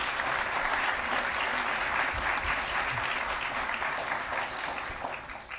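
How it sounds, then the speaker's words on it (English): An audience at a school board meeting claps steadily as a new elementary school principal is introduced, a dense, even wash of applause that tapers slightly at the end. "Go ahead and clap, that's good."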